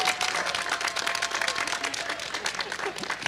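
An audience applauds at a university celebration event for a new strategic plan, with dense, steady clapping filling the room for several seconds at an even, moderate level.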